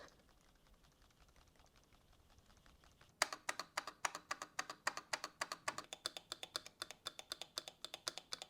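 Quiet room, then rapid, even clacking of Azot mechanical keyboard keys starts and keeps a steady, crisp rhythm close by.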